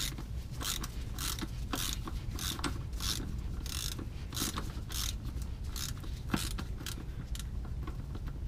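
A hand ratchet wrench works on a Ford 5R55S transmission drain bolt, giving a rapid, steady run of sharp clicking strokes, close and fairly quiet, repeating in even bursts without pause.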